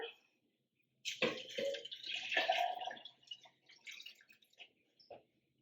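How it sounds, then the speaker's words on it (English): Water poured into a pot of cardamom, chopped ginger and turmeric for spiced tea, a close splashing and trickling pour that starts suddenly, then slows to a few drips. "Then you just add water."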